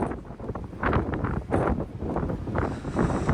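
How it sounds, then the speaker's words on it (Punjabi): Strong wind buffets and roars steadily on a ship deck, gusting in waves with a rumbling, blustery rush close to the microphone. "ਹੁਣ ਸੁਣੋ ਗੂੰਜ ਹਵਾ ਦੀ"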